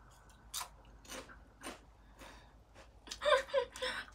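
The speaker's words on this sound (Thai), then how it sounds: "กรอบอร่อยเคี้ยวแบบหยุดไม่ได้" Crisp crunching and biting on deep-fried Jerusalem artichoke chips, several separate close bites spread across the clip, growing louder and denser toward the end, with faint breaths between.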